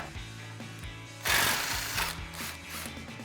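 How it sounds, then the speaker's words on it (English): A 3/8 impact gun with an 18mm socket hammers loose the lower shock bolt on a Jeep Wrangler JK, a loud buzzing rattle bursting in after a quieter ratchety stretch and lasting to the end. "I'm going to take my 18mm wrench and my 18mm socket on my 3/8 gun, take this bottom bolt out"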